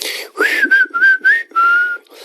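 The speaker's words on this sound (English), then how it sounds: "you guys hear that whistle solo" A melodic whistled tune, clear and close, with several sustained notes separated by short breaths, a whistle solo in the middle of a song.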